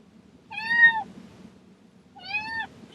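A kitten meows twice, each call clear, high and drawn out and about half a second long, with a short pause between them, heard close up over a faint background hum.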